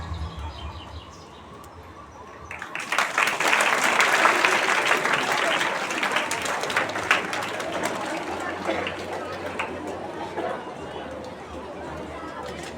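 Audience applause breaks out at a school Teachers Day celebration after a stage performance, starting softly then swelling into sustained clapping mixed with crowd chatter and fading gradually.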